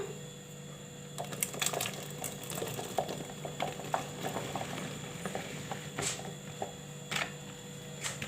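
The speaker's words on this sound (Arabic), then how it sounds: "بصوا يا جماعه كده الميه بتغلي بالشكل ده اهي" Water boiling in a pot on the stove, ready for okra, with a steady bubbling patter and scattered pops and clicks close by, no voices.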